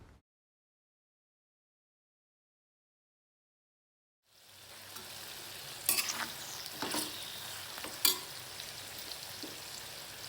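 Silence gives way to amla (Indian gooseberry) pieces frying in a hot pan on high heat for pickle, a steady close sizzle broken by a few sharp scraping stirs.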